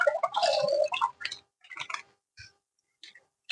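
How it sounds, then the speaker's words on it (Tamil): Milk poured into a pressure cooker on a stove while making cooker milk payasam, heard as close, splashy liquid bursts that start strong, then break into short, softer dribbles and drips with quiet gaps. "நான் 1/2 லிட்டர் பால் சேர்த்துக்கிறேன்."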